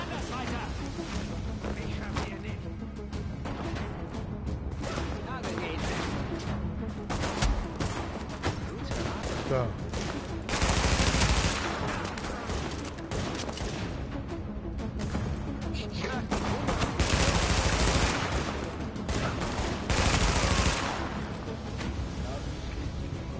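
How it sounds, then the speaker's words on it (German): Enemy gunfire in the video game The Division, with dense crackling bursts and heavier blasts rolling through a busy battle mix, louder surges around the middle and near the end, while players talk over it. "Die schießen alle von rechts."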